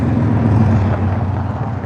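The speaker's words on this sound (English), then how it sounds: "So you'll hear cars and motorcycles and so on going by." Traffic on busy Wilshire Boulevard in Los Angeles, a loud continuous low rumble of cars passing close by on the street, steady for about two seconds with no talking.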